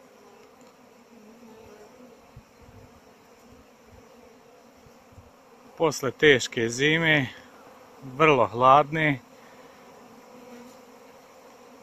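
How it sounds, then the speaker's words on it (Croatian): Honeybees stream out of their hives on a spring day after a hard winter, making a faint, continuous buzzing. Someone speaks over the buzzing in two short bursts. "pčele masovno izlijeću iz košnica, raduju se proljetnom danu"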